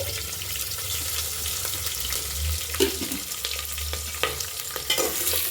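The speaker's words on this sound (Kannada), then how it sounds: "ಕರಿಬೇವಿನ ಸೊಪ್ಪು ಮತ್ತು ಹಸಿಮೆಣಸಿನ್ಕಾಯಿ, ಈರುಳ್ಳಿ ಹಾಕ್ಕೊಳ್ಳಿ, ಫ್ರೈ ಆಗಲಿ" Onions, curry leaves and green chillies fry in a pan with a steady close sizzle, broken by scraping stirs and light clatter, and no one speaks.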